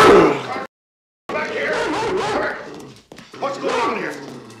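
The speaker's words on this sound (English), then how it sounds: "George, your dog just scared the hell out of me, man." A dog barks and yelps close by in a tense outdoor scene from a thriller film, a burst of barks, a pause, then more barking mixed with whimpers, tangled with voices.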